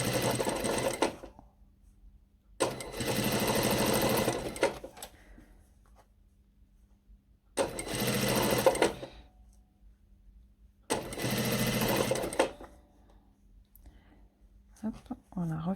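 Sewing machine sewing a straight line of stitching, in four bursts of several seconds each with quiet gaps between them, close and steady.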